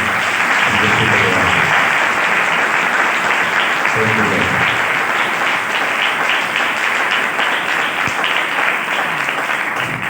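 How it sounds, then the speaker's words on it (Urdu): Loud, continuous applause from a church congregation, a dense wash of clapping that holds steady throughout with a few voices briefly audible underneath. "زوردار تالیوں سے"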